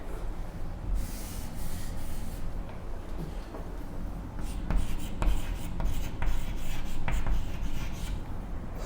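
Marker or chalk strokes on a board during a lesson, a series of close scratchy rubbing squeaks in short bursts with pauses between words being written, no talking over it.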